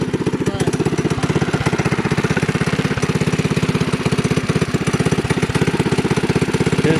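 A DIY doodle bug minibike's small engine running with the choke engaged, a loud close rapid putter that chugs at a steady rhythm throughout.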